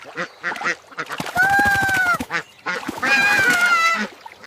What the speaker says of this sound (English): Ducks like ponds and shallow water.